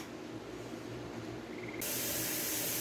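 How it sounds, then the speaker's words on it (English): Steam escapes from a pressure canner heating jars of chicken broth before it is brought to pressure. A steady, soft hiss swells abruptly into a louder, brighter rush partway through. "you got steam coming out"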